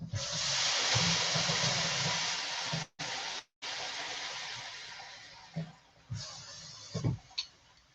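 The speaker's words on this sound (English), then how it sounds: "Maybe you guys can hear that sizzling in the background, that grill plate." Steady broadband sizzling hiss from a grill plate on a stove fills the scene, briefly cutting out twice, then quieter sizzle with a few soft clinks or pops near the end.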